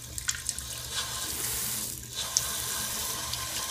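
Lukewarm water runs from a tap turned down to a thin trickle, a steady close hiss with a few small splashes, alone without talk.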